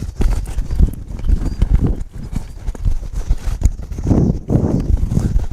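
A cutting horse works a cow in an arena, its hooves clip-clopping and thudding in quick, irregular bursts as it darts, stops and turns, loud and close with scuffing dirt throughout.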